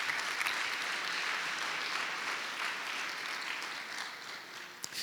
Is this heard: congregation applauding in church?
yes